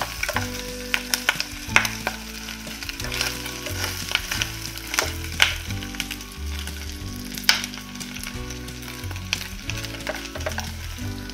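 Pork fat sizzles and spits loudly in a hot pot as it is stir-fried down to crispy bits, with continuous crackling and scraping of the stirring utensil, up close and without talk.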